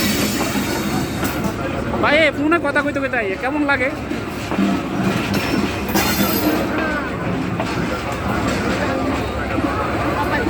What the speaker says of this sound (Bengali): এই যে আরেকটা ট্রেন আয়া পড়লো